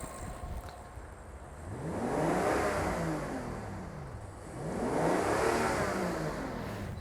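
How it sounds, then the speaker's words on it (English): A car engine revs twice at idle, each rev rising to a loud, sweeping peak and falling back, close and alone with no talking. "But what will happen if I rev the engine?"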